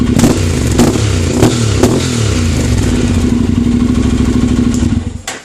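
Honda NC700X motorcycle fitted with a Danmoto Jisu exhaust with its baffle removed, loud and close, a steady throbbing idle broken by several sharp throttle blips before the engine cuts off near the end.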